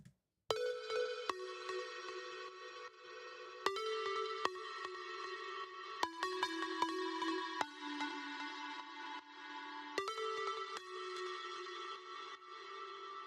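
A synth pluck plays a bright, tonal melodic pattern in Ableton, notes struck one after another with clear attacks and sustained tails, loud and upfront with no voice over it.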